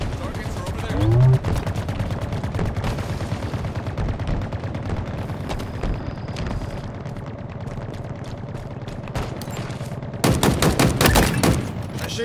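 Machine gun fire rattles through a Halo Infinite multiplayer match, rapid bursts repeating almost continuously, with a dense, louder volley near the end and an announcer-style voice briefly over the shooting.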